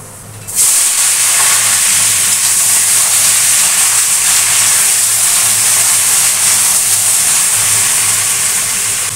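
Malabar spinach stalks dropped into hot oil tempered with nigella seeds, giving a loud, steady sizzle that starts abruptly and hisses on without a break.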